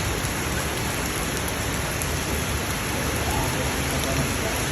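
Steady rain falls outdoors in a heavy, even wash of drops, loud and continuous throughout with no break.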